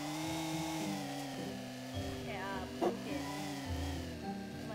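A car driven in the Roblox video game gives a steady, droning engine hum that shifts pitch a few times and holds at an even level throughout.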